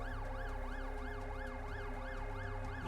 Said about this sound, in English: That's the ambulance from the pathway.